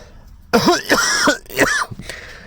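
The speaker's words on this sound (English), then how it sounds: "And please don't let my coughing detract from the information here." Several harsh, throaty coughs in quick succession, close up, followed by a short pause and another rough cough.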